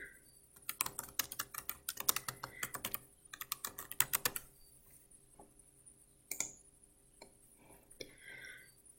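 Bursts of rapid key clicks on a computer keyboard as a calendar reminder message is typed in Office 365, quick clattering runs separated by pauses, close and fairly quiet, with a few isolated taps near the end.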